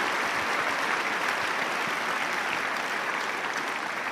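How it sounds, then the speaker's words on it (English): Sustained applause from a large crowd on Wimbledon's No.1 Court at a tennis celebration, a steady dense wash of clapping that holds evenly throughout with no voices on top. "ladies and gentlemen, just applause for Paul Hutchins"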